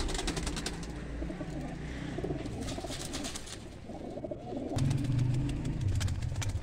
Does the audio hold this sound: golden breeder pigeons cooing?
yes